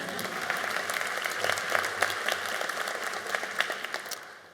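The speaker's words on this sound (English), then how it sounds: "You can applause for them." At a School of the Arts graduation ceremony, the audience applauds faculty, staff and family with steady, full clapping from a large crowd that fades slightly at the close.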